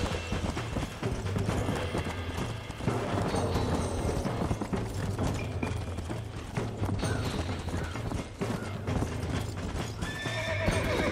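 Hooves pounding in a fast, steady gallop with occasional whinnies, loud and continuous, in the mix of effects of Red Dead Redemption on PS3.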